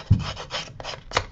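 A handheld distressing tool rasps against the paper edges of a scrapbook mini album in several short, close scraping strokes, the first sharp and the rest lighter and irregular.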